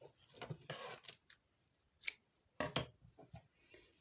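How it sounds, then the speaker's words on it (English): Scissors snip a crochet yarn tail, giving a few short, crisp close-up cuts separated by silence. "so I'm just going to cut this tail"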